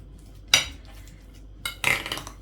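Spiced börek filling stirred in a bowl, heard as two short metallic scrapes and clinks of a utensil against the bowl, close and separated by a brief pause.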